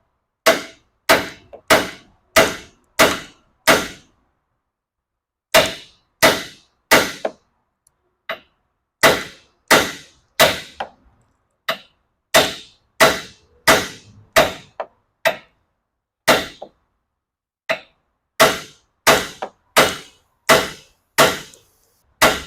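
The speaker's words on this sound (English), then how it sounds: "I'm going to give it a few whacks with the hammer right here on the steering knuckle" Sharp metallic hammer blows on the steering knuckle of a 2014 Chevy Silverado 4x4 during lower ball joint replacement, loud close strikes in quick bursts of five or six with short pauses, no talking.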